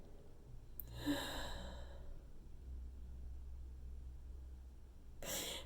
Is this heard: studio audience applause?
no